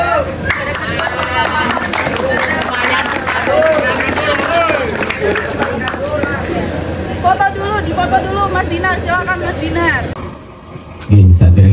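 A crowd claps for three prize winners at an outdoor gathering, the clapping running beneath loud, continuous talking and chatter before fading out near the end.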